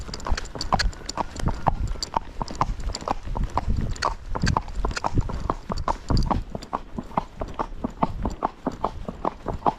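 Gaited horse under a rider, hooves striking the ground in a steady, even, rapid clip-clop beat, close and clear throughout with no speech.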